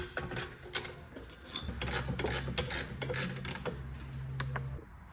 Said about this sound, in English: I'm just going to use my jack to lift the ball joints